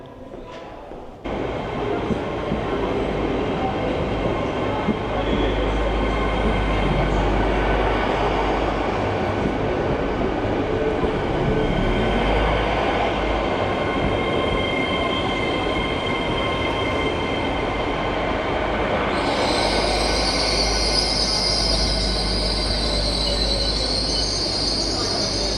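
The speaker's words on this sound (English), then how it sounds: "Now let's head on the train." A train rolls steadily along the rails with a constant loud rumble and rattle, and a high wheel squeal rises near the end.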